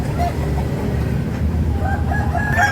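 Free-range village chickens crow and cluck at a busy poultry market in Makassar, a rooster's call rising over steady crowd and traffic din, with more crowing toward the end.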